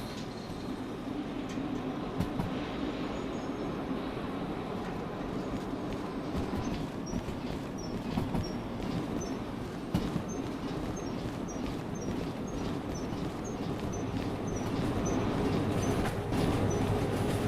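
Distant locomotive in the Derail Valley train game, a steady low rumble and hum of rail running far off, with faint high whistling tones drifting in and out over a continuous bed of noise.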